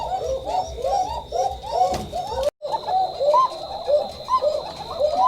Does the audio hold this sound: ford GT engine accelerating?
no